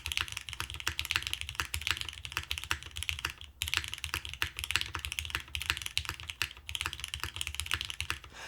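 Steady rapid typing on a Class 100 mechanical keyboard, close and crisp, with dense clacky keystrokes and a brief pause midway, no voices.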